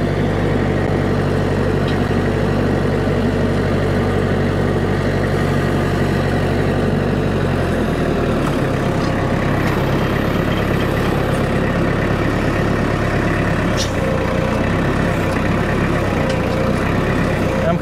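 A tractor engine runs steadily in first gear while pulling a TR3 landscape rake over soil, a continuous loud low drone with shifting load and faint scraping, and a voice talks over it.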